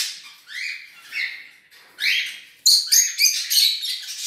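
Budgerigar chicks in an opened nest box give several short, high, clustered chirps and peeps, rising to a close, lively burst of overlapping calls toward the end.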